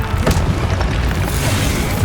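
Incendio fire-spell burst in Hogwarts Legacy combat, a loud, dense booming rumble with a sharp pop near the start, steady and heavy throughout with no talking.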